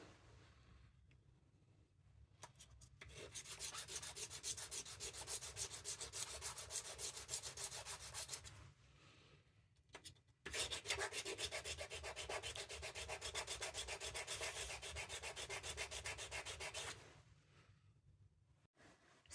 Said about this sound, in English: grit sandpaper and just sanding all the edges which were a little bit higher and wider